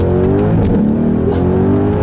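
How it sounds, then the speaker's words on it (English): A 2018 Mercedes-AMG GLC63's exhaust roars in manual mode as it accelerates hard, engine pitch climbing, dipping at a violent 1-2 gear shift, then rising again, loud and close. "Got that exhaust turned back on, put into the manual mode, and let it rip."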